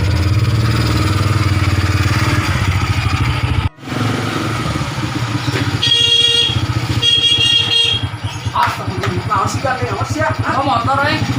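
An old motorcycle engine runs close by on a village road, a steady rough putter that sits under voices talking, with a couple of brief horn toots partway through.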